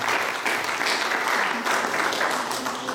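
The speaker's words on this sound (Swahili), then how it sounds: "Please help me welcome Dr. B. Piga Dr. B makofi." An audience at a Sifa appreciation night in Kisii applauds to welcome a sound engineer, a loud, continuous wave of many hands clapping close by, holding strong for several seconds.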